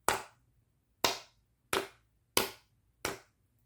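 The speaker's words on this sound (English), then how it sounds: "I'm going to thump on the back." Paper covered in embossing powder over washi tape thumped from behind to knock the excess off: five sharp, hollow thumps spaced about a second apart, close and isolated in a quiet room.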